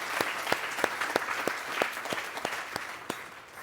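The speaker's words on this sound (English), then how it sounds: "maybe a round of applause to yourself as a scientific community" A scientific community audience at a merit awards ceremony gives a round of steady applause, dense clapping with sharp individual claps standing out, moderately loud and continuous throughout.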